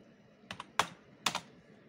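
A few quick keystrokes on a computer keyboard while entering an AutoCAD command, crisp close clicks in two small bursts with a short gap, ending in a final pair of taps.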